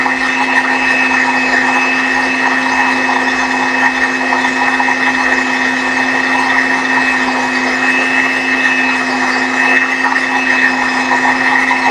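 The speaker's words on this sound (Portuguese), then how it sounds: "Esse processo de bater vai levar mais ou menos 10 minutos." A stand mixer whips marshmallow in a bowl, producing a loud, steady motor whine with a constant hum that runs unbroken throughout.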